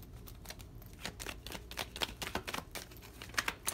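Tarot cards being shuffled by hand, a quick flurry of soft riffling flicks and taps close by, with no talking.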